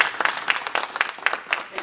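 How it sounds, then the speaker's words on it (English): A church congregation claps in praise, quick fairly loud hand claps in a steady rhythm, close and distinct, with a voice faintly mixed in. "Somebody give God a hand clap of praise today."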